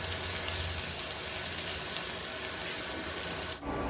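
Onions fry for adobo in a steady hissing sizzle that fills the whole stretch, close and even, then cuts off abruptly near the end, with no talking.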